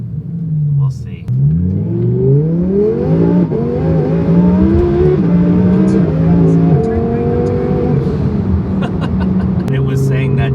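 A twin turbo Audi R8 pulls hard at full throttle with the traction warning active: a loud in-cabin engine roar climbs steadily through the revs, briefly drops at gear changes, then rises again over a continuous drone.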